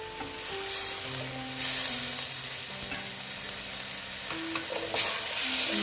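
Grated tomato hits hot oil in a pan, giving a loud continuous sizzle with scraping stirs from a utensil, flaring louder at a couple of moments, with no talk.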